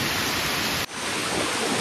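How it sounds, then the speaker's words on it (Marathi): Rain in a forest keeps up a continuous, broad wash of hiss, cut by a momentary dip near the middle before carrying on at a similar level. "कमी झाला बहुतेक पाऊस"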